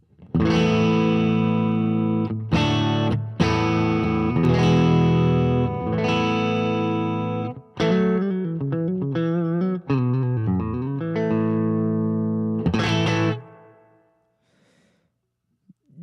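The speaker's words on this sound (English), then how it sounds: "So now, both pickups." A Fender American Elite Telecaster electric guitar played with both pickups on, loud distorted chords with natural breakup, ringing sustained strums and a busier riff midway, then fading to silence at the end.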